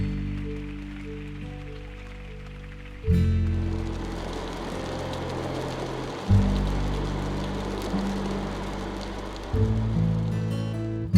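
Rain falls steadily on a surface in a hissing, continuous patter near a lake, under a low droning hum that jumps in level a few times.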